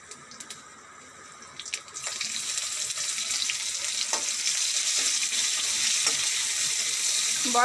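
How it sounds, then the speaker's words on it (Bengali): Spices tempering in hot oil in a wok (kadai) for a yardlong bean curry: a steady, fairly loud sizzle that builds after a couple of seconds of quieter clatter and holds on to the end, with no talking. "একটু ফোড়ন দিয়ে দেবো, কড়াইতে তেল দিয়ে দেবো।"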